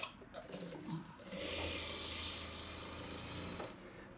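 A sewing machine stitches a boat neck blouse, starting after a second of softer handling noise and running as a steady, even whir for about two seconds before stopping.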